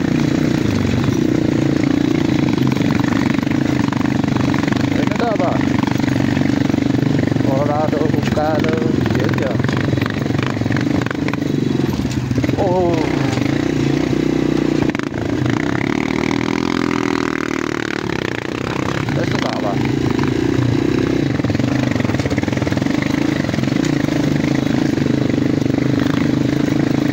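A motorcycle engine runs loud and steady, its low rumble filling the whole stretch with revving variations, while someone talks over it.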